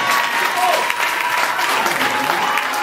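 A church congregation breaks into loud, continuous applause and cheering to acclaim the Lord during a sermon, a dense wash of clapping close by that holds steady throughout.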